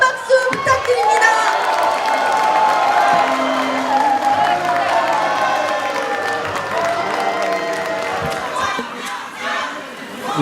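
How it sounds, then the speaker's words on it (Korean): A crowd at a Korean local-election candidates' launch rally erupts in loud applause and cheering, shouts and music layered over sustained clapping throughout. "여러분 큰 박수 부탁드립니다."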